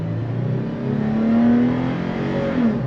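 Toyota 4Runner 40th Anniversary Edition with a naturally aspirated V6 pulling away on throttle, a moderate, steady engine hum from inside the cabin that swells gradually, with no voices.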